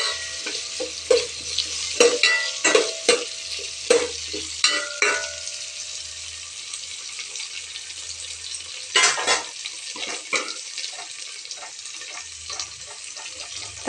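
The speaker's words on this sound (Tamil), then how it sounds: "வெங்காயம் வதங்கட்டுங்க." Onions sauté in a pan with a low sizzle, broken by a run of sharp scraping and clinking stirring strokes at the start and another burst near the middle, then quieter frying.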